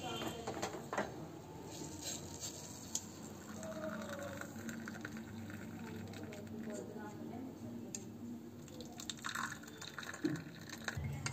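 Tea being strained into a cup, made with condensed milk instead of sugar and milk. A soft trickle of pouring and dripping liquid runs under a person talking nearby.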